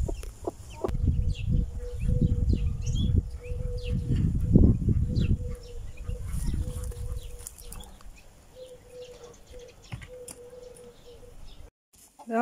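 A silkie hen clucks softly near her newly hatched chicks, a series of low, repeated clucks with thin peeping mixed in, close by, with people talking at times.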